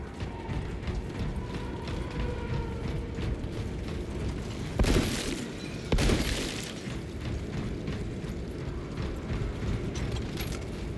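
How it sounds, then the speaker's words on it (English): A bolt carbine magazine being pulled out and then slotted back in within a video game: two sharp mechanical clacks about a second apart, set against a steady low ambient rumble. "Magazine out. Magazine in."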